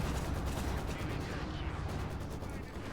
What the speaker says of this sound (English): Panzer there firing away.